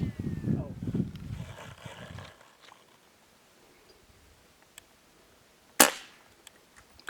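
A single sharp crack of a Vectis 25 lever action air rifle is fired outdoors while hunting, loud and abrupt after a stretch of near silence, preceded by low rumbling and quiet voices.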